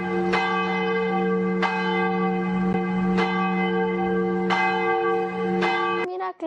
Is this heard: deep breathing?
no